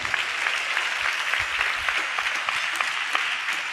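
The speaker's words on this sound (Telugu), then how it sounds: "గట్టిగా చప్పట్లు కొడుతూ స్తోత్రాలు చెప్దాం" A church congregation claps loudly in praise, producing a dense, continuous patter of many hands. It is fairly uniform and sustained throughout, with no clear voices above it.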